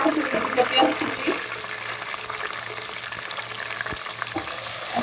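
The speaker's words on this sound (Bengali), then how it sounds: "এখন এটাকে আমি ভাজবো।" Green peas and chopped onions fry in a pan for chicken bhuna khichuri, a steady close sizzle with a few stirring clinks early on, continuing evenly throughout under a low background hum.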